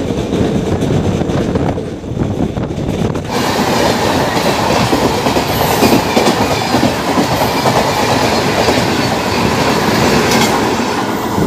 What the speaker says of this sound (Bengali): এবার ট্রেন ঢুকছে তারাপীঠ রোড স্টেশনে।